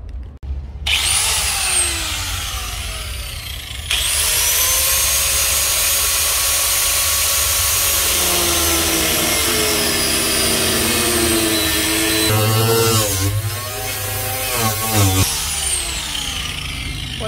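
Angle grinder cutting on a camper during installation of an outdoor shower, a loud, sustained high-pitched whine running almost continuously with shifts in pitch as the disc bites into the material.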